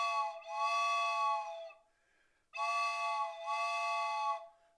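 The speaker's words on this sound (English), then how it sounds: "Here's a train whistle." A train whistle effect from a vintage 1929-30 Leedy drum set gives two clear, sustained multi-tone blasts with a short pause between them, close and alone.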